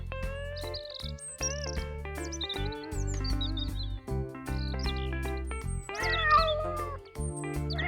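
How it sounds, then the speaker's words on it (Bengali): Several cats meow in a room in an animated cartoon, loud overlapping cries that rise and fall one after another with brief gaps, alone and without talk. "এ তো মনে হচ্ছে বেশ কয়েকটা বেড়াল।"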